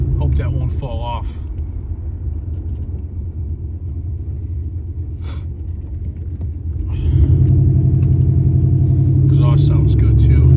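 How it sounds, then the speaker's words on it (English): A 1983 Hurst Olds on the road: a steady, deep exhaust rumble that swells louder partway through, under brief bits of talking. "Exhaust sounds good too."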